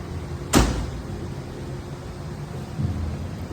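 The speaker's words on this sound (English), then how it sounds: "watch you see when I close the door here how nice this lines up" A car door with a Carson top slams shut once, a sharp close bang followed by steady background hiss, with a faint second knock a couple of seconds later.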